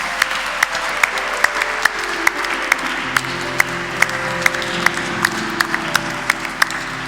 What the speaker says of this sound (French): Et applaudissements pour Marie.